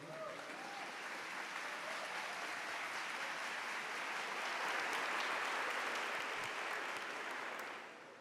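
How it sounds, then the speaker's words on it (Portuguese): A church congregation applauds after a Bible reading, sustained broad clapping from many people that swells slightly toward the end before fading away. "vamos aplaudir a palavra do Senhor"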